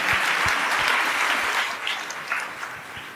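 Audience clapping at a church gathering, a loud dense burst of many hands that gradually thins and fades toward the end.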